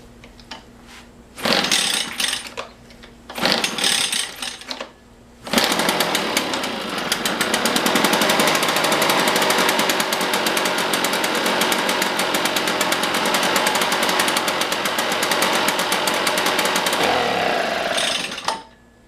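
Echo PB-500T backpack blower with a plugged exhaust being pull-started with the choke on: two short rattling cranks from the starter cord, then the two-stroke engine catches and runs loud and steady at close range before shutting off.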